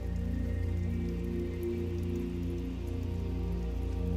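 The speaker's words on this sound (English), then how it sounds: "pounding down upon the tin roof, watching the rain as it hits the pavement and bouncing off onto the grass" Rain falling on a tin roof and on pavement, heard as a dense, steady patter beneath a constant low hum with no variation in level and no voices.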